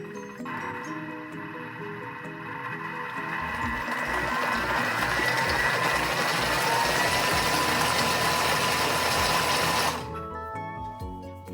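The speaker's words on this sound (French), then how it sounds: "On va mixer 5 secondes, vitesse 5." A Thermomix food processor blends at speed 5 for a béchamel and endive dish, starting from a low motor hum, rising into a loud steady whirring grind for several seconds, then cutting off abruptly near the end.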